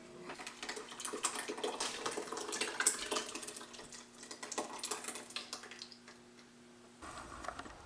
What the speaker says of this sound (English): out there cleaning up all the equipment with the hose